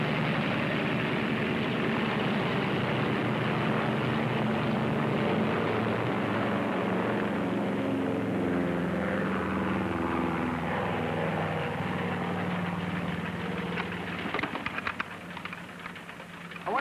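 A propeller airplane drones steadily and loudly throughout from a 1937 film scene, a constant engine roar that shifts slightly toward the end.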